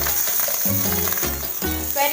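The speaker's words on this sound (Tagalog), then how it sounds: "Igigisa na natin yung onion." Chopped onion sautés in a hot pan for chicken kaldereta, giving a steady sizzling crackle with a few soft stirring scrapes over a faint background hum.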